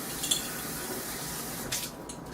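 Water pours and spatters into a pan of rolled collard greens topped with homemade sauce, giving a steady, close hiss that ends with a few quick splashes.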